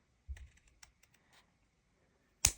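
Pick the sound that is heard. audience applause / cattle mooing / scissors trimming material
scissors trimming material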